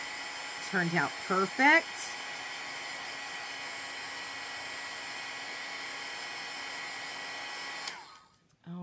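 Hair dryer or heat tool blowing over a chalk paste craft piece, a steady even whoosh running several seconds before cutting off, with a person speaking briefly at the start.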